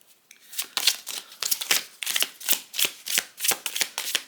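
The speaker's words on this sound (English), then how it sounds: "Bit of a difficult shuffle." Tarot cards shuffled by hand in a steady run of crisp riffling bursts, close and fairly loud, with no talking.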